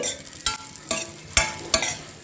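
Dry fruits sizzle gently in a hot pan while a spoon scrapes and stirs them in about five distinct, evenly spaced strokes, close and clear with no talking.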